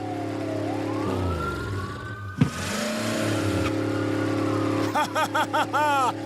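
A cartoon police siren wails in sweeping rising tones, then pulses in quick repeated bursts near the end, loud over a car engine's hum.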